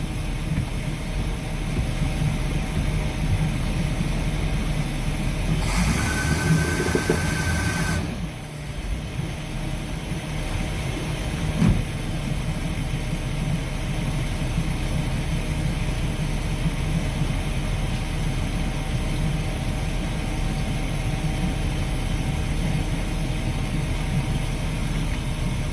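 An engine idling steadily after the carburetor idle mixture has been adjusted and the flame arrestor cleaned, a continuous low rumble with a constant hum throughout. A brief hiss interrupts early on, and no one speaks.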